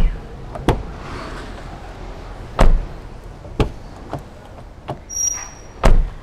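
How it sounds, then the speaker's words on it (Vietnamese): The door of a used Honda City 1.5 CVT is opened and shut repeatedly, giving several sharp thuds and latch clunks spaced a second or so apart, close and loud, with softer handling noises between them. "bây giờ mình sẽ thử mình mở cửa xong rồi đóng cửa để cho mọi người nghe thử là cái tiếng cửa"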